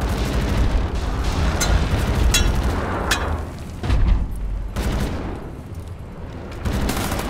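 A grenade blast in the shooter Wolfenstein: The New Order, with loud booms and sharp bursts of gunfire recurring over several seconds against a dense rumbling game soundtrack, with no talking.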